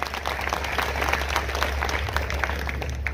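Audience applause at a Hindi poetry recital, a steady spread of clapping from a crowd heard over a low hum.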